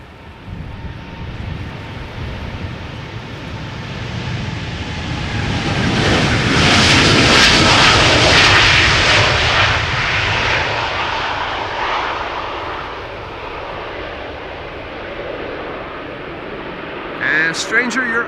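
KLM Boeing 787-9 on departure from Schiphol's Polderbaan, its engines building to a loud roar that peaks midway and slowly fades as the jet climbs away.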